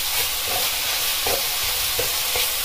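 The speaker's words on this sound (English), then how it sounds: "So my meat's just browning" Minced meat browning in a frying pan, a steady close sizzle with intermittent scraping and stirring as it is broken up, no talk.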